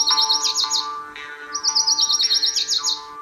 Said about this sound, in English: it's Lucy's warbler.